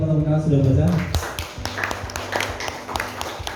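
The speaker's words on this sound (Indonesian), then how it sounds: "Berikan tepuk tangan untuk yang teman-teman yang sudah baca." Classroom of students clapping for classmates who read aloud, a brief burst of fairly close applause that follows a teacher's voice.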